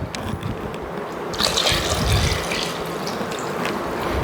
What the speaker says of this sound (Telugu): అవి మునిగేంత నీళ్లు పోసాను